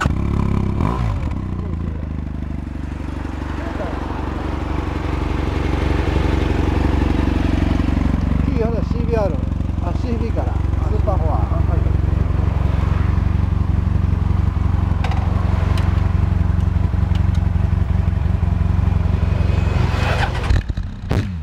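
A BMW F800R motorcycle engine starts and settles into a continuous running drone for about twenty seconds, with some clattering and scraping noises and occasional voices nearby.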